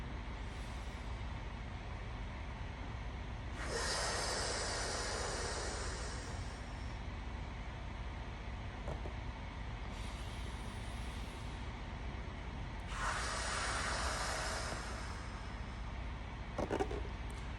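Slow deliberate breathing: two long, airy inhalations a few seconds each, separated by a quiet pause, close and soft against a steady low background.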